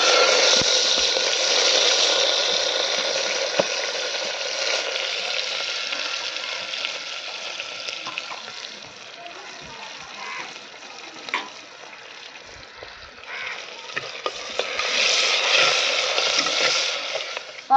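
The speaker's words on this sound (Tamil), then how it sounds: "வெங்காயம் நல்லா பொன்னிறமாக வதக்கலாம்பா." Sliced onions sauté in a pan after mustard seeds, fenugreek and curry leaves, a steady close sizzle and crackle with occasional stirring scrapes, fading slightly midway then rising again.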